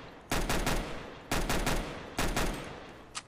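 Three separate bursts of rapid pistol fire from CS:GO, each a quick cluster of loud sharp shots that fade out, then a single short crack at the end.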